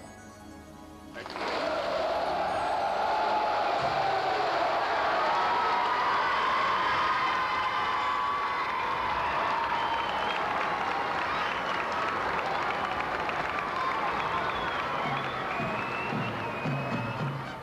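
A large crowd gives a sustained ovation and applause for King Baudouin of Belgium on his 60th birthday, a dense wash of clapping and cheering that starts suddenly and stays loud throughout at a distance.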